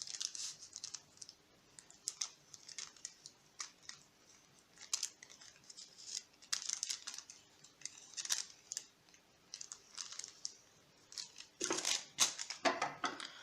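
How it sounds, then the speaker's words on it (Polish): Quiet, intermittent snipping and crinkling as scissors cut through baking paper, short bursts with brief gaps, close to the microphone. "nożyczki i wycinamy."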